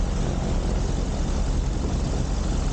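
A light propeller aircraft taxiing out toward runway 07 at a small airfield, heard from inside as a loud, steady, broadband engine and propeller drone with no breaks.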